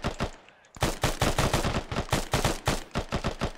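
Rapid bursts of gunfire crack loudly and closely in a steady, near-continuous string after a brief pause, as suppressive fire in a military combat operation, with no talk over it.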